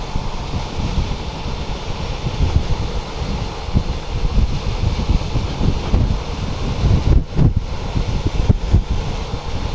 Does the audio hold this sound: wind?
yes